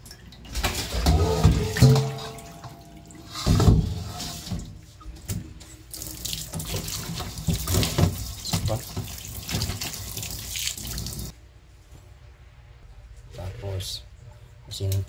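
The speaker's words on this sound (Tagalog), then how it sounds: "Hugasan po muna natin itong isda, no?" Fish being washed under a running kitchen tap: loud, continuous splashing water that surges and eases as the fish is handled, with a person talking over it before the flow quiets near the end.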